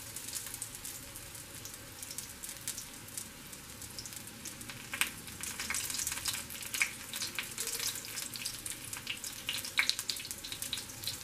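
Breaded shrimp frying in hot oil for a cream cheese shrimp sushi roll, giving a steady crackling sizzle with sharper pops that grow busier partway through, with no talking.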